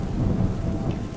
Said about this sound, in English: This thunder sound is the best.